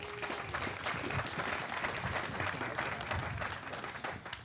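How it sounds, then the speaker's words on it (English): A township State of the Township crowd applauds its sponsors, an even, sustained round of clapping from a moderately distant audience with no talk over it. "One more round of applause for our sponsors today"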